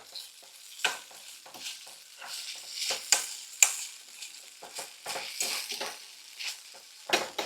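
Food fries in butter in a pan, with a soft steady sizzle broken by repeated scraping and stirring strokes from a utensil, close and fairly quiet.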